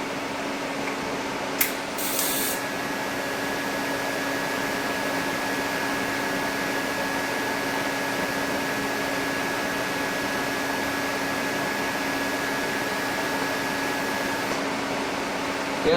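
TIG welder running at about 75 amps on steel, a steady close hiss and electrical hum that holds evenly for the whole stretch, with a brief sharp crackle near the start.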